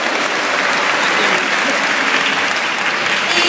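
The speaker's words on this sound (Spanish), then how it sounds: "un aplauso, venga, venga." A crowd at a cosplay contest and catwalk in Gijón applauds loudly and continuously, a dense, even wash of clapping with no pauses and no clear speech on top.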